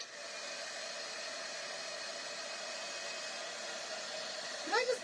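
Hair dryer blowing steadily to dry a rice paper craft tag with a butterfly, a constant close whooshing hiss throughout, ending with a brief vocal sound.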